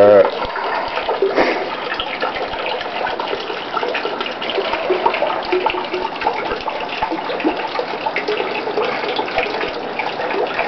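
Water gushes and churns steadily into an underground rainwater reservoir tank, a loud continuous rushing with hollow, enclosed splashing, heard up close and without talk.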